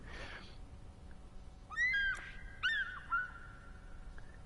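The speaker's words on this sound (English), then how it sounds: "Yo, that bird is loud." A bird in the Powerwash Simulator video game lets out a few loud, shrill, warbling calls in quick succession against a quiet background hiss.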